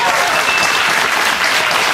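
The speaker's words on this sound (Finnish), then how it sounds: "Annetaan sille aplodit." A short burst of dense, loud studio audience applause on a Finnish TV talk show, steady and close for its whole length.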